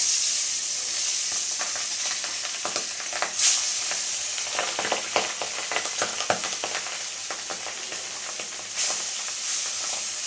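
Pabda fish fries in hot oil in a pan, giving a continuous sizzle with frequent sharp spattering pops and crackles heard up close.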